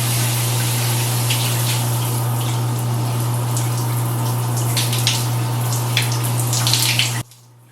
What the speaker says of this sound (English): now I got my hair completely drenched with water